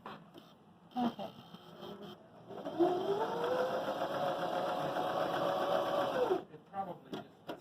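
A Baby Lock Zeal sewing machine stitches a zigzag in one steady, whirring, motorized run of about four seconds, close by, with a person talking before and after it.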